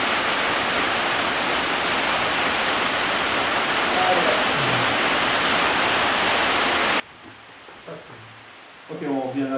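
Heavy rain pours outdoors as a loud, dense hiss for about seven seconds, then cuts off abruptly, followed by quieter sounds and voices talking.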